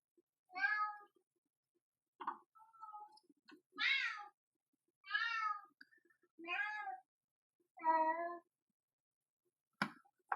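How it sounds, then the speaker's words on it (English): A cat cries and meows behind a closed door, giving about eight separate drawn-out plaintive calls spaced a second or two apart, fairly close and clear against a quiet room. "Sorry if you hear a cat crying in the background."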